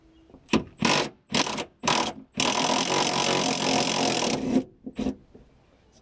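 Ratchet wrench working nuts and bolts loose during interior work on a 1993 Dodge Dakota manual swap, several short rapid ratcheting bursts, then a long continuous run of clicking, then a few more short bursts, close and clear.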